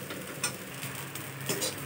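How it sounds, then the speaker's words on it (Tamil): Ground-flour upma being stirred in a pan, soft scraping strokes over a faint low sizzle, quiet and close, with a couple of light ticks from the spoon. "15 to 20 நிமிஷம் வரைக்கும் நல்லா கிண்டிக்கிட்டே இருக்கணும்"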